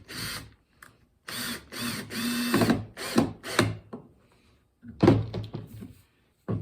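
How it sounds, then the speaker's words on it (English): A screw is power-driven through a skull into PVC pipe for a DIY grave marker, giving several short, loud whirring drill bursts with pauses in between. "we're going to run a screw right through the skull"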